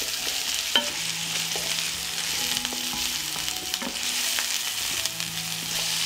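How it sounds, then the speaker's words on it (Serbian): Onion, carrot and garlic fry in hot oil with a steady, close sizzle, interrupted by occasional scrapes and taps of a stirring utensil; no talking. "Dok se povrće prži"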